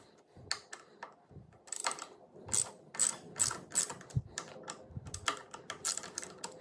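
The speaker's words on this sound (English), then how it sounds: "this thing gets removed. Be careful not to strip these bolts." A ratchet wrench clicks repeatedly while loosening the bolts on billet handlebar risers of a 2023 Ducati Streetfighter V4S, in close, uneven bursts of rapid pawl clicks with brief pauses between them.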